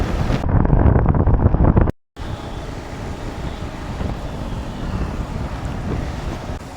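Sea waves and wind at the Mumbai seafront during monsoon rain, with loud rushing surf and buffeting microphone wind, broken by a short dropout before a steadier roar of water resumes.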